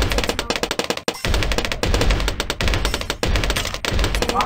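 Cobra towers in Bloons TD Battles fire rapid, dense bursts of gunfire in close, loud runs broken by a few short pauses.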